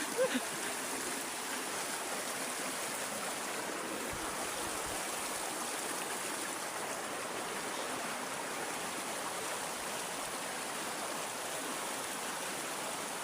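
A clear mountain stream flows steadily and continuously, a dense even rush of water heard close by for the whole stretch.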